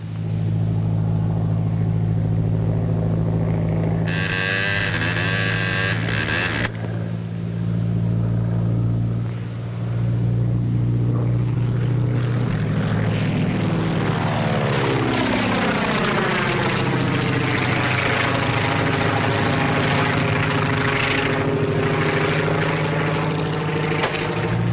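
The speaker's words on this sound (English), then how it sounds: "Just spotted kid's plane with smoke attachment." A small propeller plane trailing a smoke attachment drones steadily overhead for a long stretch, its engine tone rising and sweeping as it passes near and then banks away, with no voices over it.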